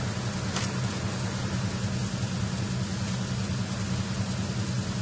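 Dense, constant mechanical drone fills a ship's engine room in Metal Gear Solid 2, a loud low hum with steady broadband roar and no breaks.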